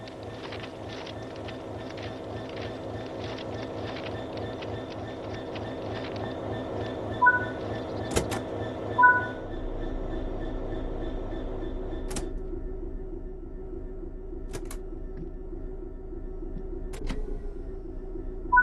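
A Class 66 diesel freight locomotive in Train Sim World 4, on the East Coast Main Line, idles with a steady low engine drone and faint harmonic whine, broken by a few sharp cab clicks and thumps. No one speaks.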